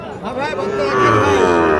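Sahiwal bull calves at the Ambari cattle market; one loud, close moo rises and stretches for nearly two seconds over a faint murmur of the crowd.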